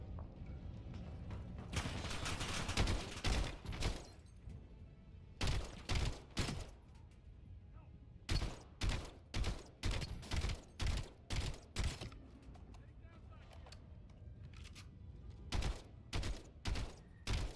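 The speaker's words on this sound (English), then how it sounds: "they were shooting me through the metal" Rapid bursts of video game gunfire, with rounds punching through metal, come in clustered volleys with short gaps between them, loud and close with no talking over them.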